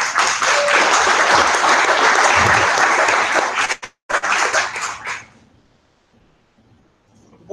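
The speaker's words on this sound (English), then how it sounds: "Give them a round of applause" A crowd claps and cheers in loud, dense applause that briefly breaks, resumes, then fades away into quiet.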